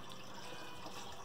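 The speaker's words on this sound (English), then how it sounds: "I'm trying to just pour off the water and not get that last bit of green." Water pouring off from a bucket used while cleaning a fish tank, a steady close splashing trickle throughout the brief moment.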